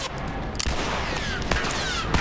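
Several sharp video game gunshots crack out at uneven intervals, taking down the last enemies with headshots over faint background game sound, with no talking.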